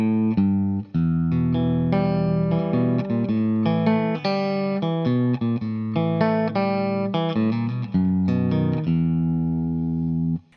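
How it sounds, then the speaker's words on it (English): Fingerstyle guitar plays the verse of a song, a steady run of plucked notes and chords without a pick, continuous and upfront with no talking over it. "and then we go into the verse. It sounds like this."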